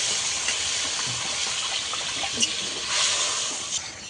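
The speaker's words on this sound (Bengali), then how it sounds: "এবারে জল দিয়ে দেব, পরিমাণ মতন জল" Water poured from a vessel into a Bengali fish curry of ground spice masala, a steady close splashing gush that swells near the end, with no voices.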